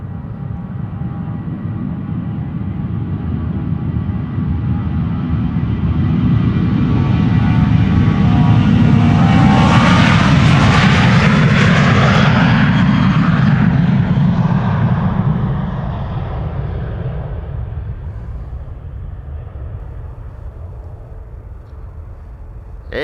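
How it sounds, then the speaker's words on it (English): A Martinair KLM cargo plane bound for Miami takes off from a runway at Amsterdam Schiphol, its jet engines building to a loud, close roar with a Doppler sweep before fading into a distant rumble. "Martin Air KLM cargo is coming. Indeed, mate. Going to Miami. On its way over to our runway to take off."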